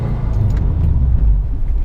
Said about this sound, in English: Okay, so that definitely locks up the brakes.